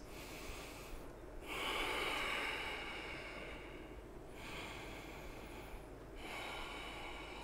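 Slow, deep breaths during a seated yoga twist, audible as long airy inhales and exhales that rise and fall in a steady cycle, close and fairly soft with no talking.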